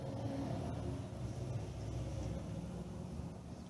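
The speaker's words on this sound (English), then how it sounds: "There's like a bus passing by right now." A bus rolls past outside, giving a steady, continuous low rumble with engine drone that stays fairly constant throughout, heard from indoors with no talking.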